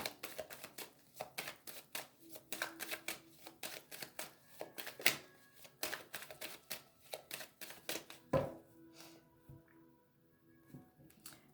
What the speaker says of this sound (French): Allez, on va aller faire la coupe avec l'oracle des miroirs.